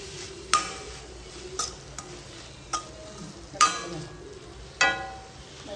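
Potatoes tipped into a sizzling pan already seasoned with chilli powder and salt, then mixed, with about six sharp spoon-on-pan clanks and scrapes over a steady frying hiss.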